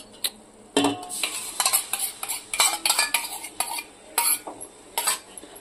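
A spoon stirring curd into vegetable dum biryani in a pot over a low flame, with irregular scraping and clinking strokes against the metal and brief pauses between them.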